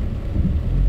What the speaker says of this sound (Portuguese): a chuva está moderada e ela é contínua, ela não para.